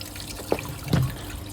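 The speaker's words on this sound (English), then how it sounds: "Brew day's done, water's coming out into the fermenter" Water runs steadily into a beer fermenter with a soft liquid rush, with a couple of small drips and knocks on top.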